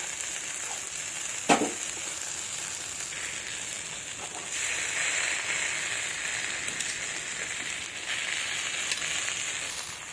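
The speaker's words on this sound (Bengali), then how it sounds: "তো এবার আমি মশলাটা দিয়ে দেবো।" Ground dried chili, ginger and cumin paste hitting hot oil in a pan for rui fish curry, a sharp clatter at the start, then a steady close sizzle that swells louder and fizzes on, with no talking.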